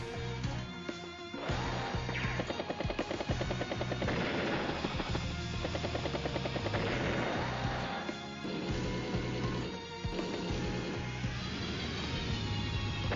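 Rapid bursts of gunfire, rocket blasts and crashing explosions from units attacking in Advance Wars: Days of Ruin, a rocket launcher and battlecopter striking, dense and loud over a constant game music bed.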